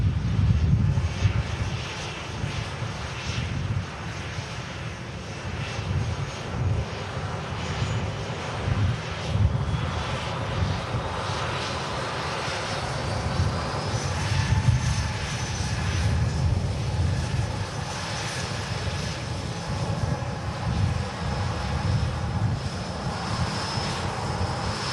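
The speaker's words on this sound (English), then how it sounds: "Ryanair stopped in front of us." A Ryanair airliner sits stopped on an airport taxiway with its engines running, giving a steady, continuous low roar with a faint high whine above it, fairly close and unbroken throughout.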